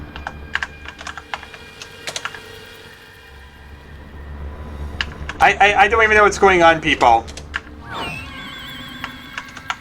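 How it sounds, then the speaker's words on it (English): Bursts of rapid computer keyboard typing clatter close by during a Minecraft capture-the-flag match, dense clusters of keystrokes broken by pauses, with someone talking over part of it. "I'm hitting a lot of wrong keys."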